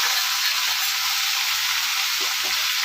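Green chili paste sizzles in a hot frying pan while a pointed gourd (potol) dish cooks, a close, steady, unbroken hiss of frying that never lets up.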